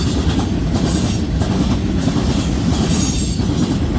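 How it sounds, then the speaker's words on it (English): A freight train of empty oil tank cars rolls past close by at Ladysmith, Wisconsin, with loud, continuous rumble, clickety-clack of wheels and a thin squeal of wheels on the rails. "Here come the string of oil empties now."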